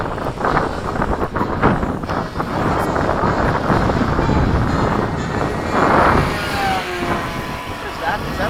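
An FMS 70mm F-16 model jet with an LED afterburner flies over a field, its ducted-fan roar steady and loud under gusty wind noise, with people talking nearby.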